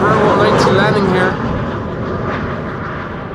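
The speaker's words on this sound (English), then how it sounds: "Eastern Airways, Embraer 190 landing here" Eastern Airways Embraer 190 jet landing at Amsterdam Schiphol Airport, a loud broadband engine roar that is strongest at the start and then eases to a steady, slightly quieter rumble.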